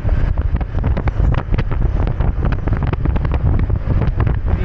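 Loud, constant wind buffeting rushes over the microphone on a solo long ride through Southern Leyte, dense and roaring with rapid gusty flutters, no voices.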